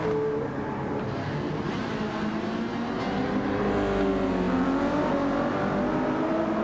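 Subaru WRX and Subaru BRZ racing in a sim racing league race, engines droning and revving steadily with rising and falling pitch as cars pass, a continuous moderately loud roar without talking.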